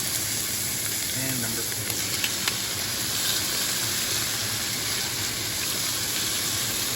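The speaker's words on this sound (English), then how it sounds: "If you don't hear a sizzle like that, do not put the steak down." A steak searing in a hot pan gives a steady, loud, close sizzle and crackle throughout, with someone briefly speaking over it.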